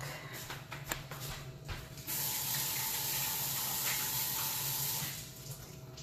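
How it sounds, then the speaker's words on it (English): Hands washed under a running kitchen faucet while cooking: after some brief clicks and handling, the tap opens into a steady close rush of water for about three seconds, then the flow softens. "let me wash my hands real quick"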